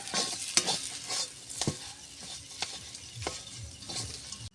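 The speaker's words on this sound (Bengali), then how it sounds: "এদিকে আমি আলুটাকে কষাচ্ছি এদিকে ভালো করে" Potatoes stir-fried in mustard oil in a pan in a village kitchen while samosas are made, giving a steady sizzle broken by repeated sharp scrapes and clinks of the spatula against the metal, close and fairly loud.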